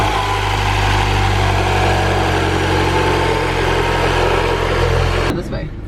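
A Mini Cooper R55 with the N18 engine and freshly fitted coil packs and spark plugs runs at a steady, loud idle close by, then cuts off abruptly near the end.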